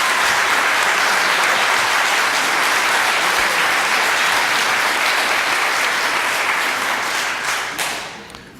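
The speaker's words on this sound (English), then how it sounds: "Folks, please hold down your applause, please" Sustained applause from the audience at a Blount County, Tennessee agenda committee meeting, dense and steady for about eight seconds before tapering off at the end.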